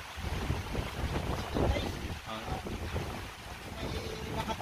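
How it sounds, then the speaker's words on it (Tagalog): Typhoon Enteng's wind gusts hard and roars against the microphone in a continuous, uneven rumble, with occasional faint voices under it. "Hindi tumitigil si Bagyong Enteng guys."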